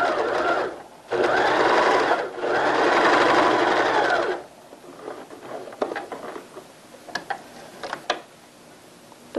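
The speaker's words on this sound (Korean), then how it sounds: "넓히고 한 번만 박음질 해주세요." A sewing machine running a wide straight stitch along the hem of baby pants, whirring in two steady runs of about a second and two seconds, then falling to soft clicks and fabric handling.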